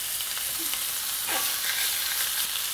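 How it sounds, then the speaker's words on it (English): Chicken thighs sizzle steadily as they sear in hot oil in a pan, a constant loud crackling hiss close by, with a faint clink partway through. "That sizzle, that sear is exactly what you wanna hear."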